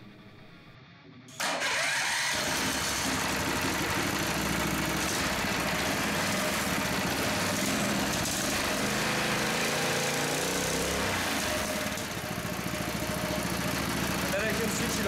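Engine of a 450 kg radio-controlled tank cranks and catches at about the one-and-a-half second mark, then runs loudly and steadily for the rest of the clip with a dense mechanical roar.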